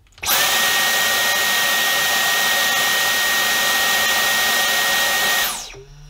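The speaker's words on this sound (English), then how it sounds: "And then we'll try the maximum setting on the Dyson." A Dyson V10 Absolute cordless vacuum cleaner runs on its maximum setting: a loud, steady high-pitched motor whine with a piercing tone that holds for about five seconds, then winds down quickly at the end.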